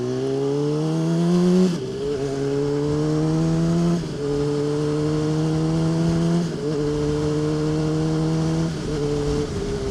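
2007 Honda CBR600RR sport bike riding hard, a loud engine whine climbing through the revs in repeated rising sweeps with brief drops at each gear change, close and continuous.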